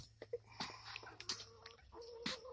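Chickens clucking inside a crowded coop with a rooster, scattered short clucks and chirps at low volume over a faint steady hum, irregular and close.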